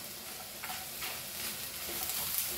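Garlic and masala roasting in a pan for Goan-style dal, a soft, fairly quiet sizzle with a few gentle stirring scrapes, close and steady with no voices.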